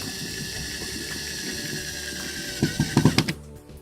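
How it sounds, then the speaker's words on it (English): A screw being driven into a track mounting, heard as a short run of sharp ratcheting clicks near the end, following a steady mechanical hum. "so I'm going to put this middle screw in"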